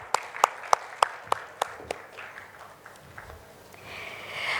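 Applause for a speaker at a reproductive health panel: about seven sharp, distinct claps in an even rhythm that soon thin out into scattered, softer claps and faint room noise, as if only a few people are clapping.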